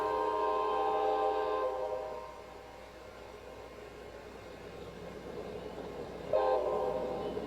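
Cartoon spelling train sounding its horn: a loud, sustained multi-tone blast for about two seconds, a low rolling rumble, then a second horn blast near the end.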